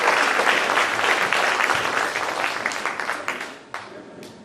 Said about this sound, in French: On peut l'applaudir, bien sûr.